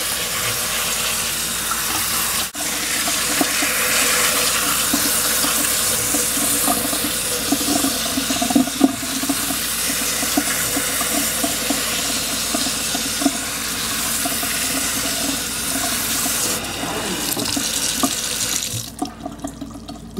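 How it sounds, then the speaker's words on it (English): Tap water runs steadily into a tray as bean sprouts are rinsed, a loud continuous splash and gurgle close by that cuts off near the end. "And rinse. And the daily rinsings begin."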